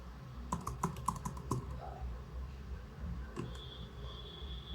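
Typing on a computer keyboard on a Linux Mint desktop, a quick run of crisp key clicks followed by a pause and a couple more taps, close and moderately faint with a low background hum.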